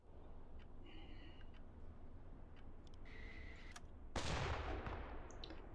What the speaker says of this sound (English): He's firing flares into the air.